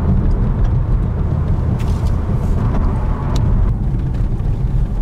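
A 2018 Kia Stinger GT2 AWD with a V6 drives on a public road, with a steady, loud low engine and road rumble and tyre noise that continue without a break and no talking.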